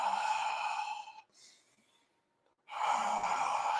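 A person does ujjayi yoga breathing, imitating Darth Vader with two long, hoarse, rasping breaths through a constricted throat, separated by a short quiet pause.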